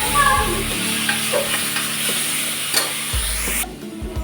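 Chicken biryani masala sizzles in a pressure cooker on a gas stove as it is stirred, with a steady fry and occasional scrapes of the spoon. The sound cuts off near the end.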